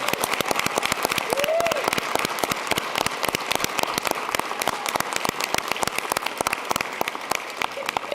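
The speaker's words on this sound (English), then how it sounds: "One more round of applause for everybody." Sustained audience applause fills a naturalization ceremony in a legislative house chamber, dense steady clapping throughout at even loudness, with a brief voice rising faintly beneath it.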